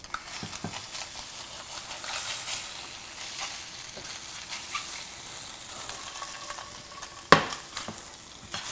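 Halibut fries with a steady, close sizzle in a pan while a utensil scrapes and nudges the stuck fillet loose, ending in a sharp clack around the seventh second; no one talks.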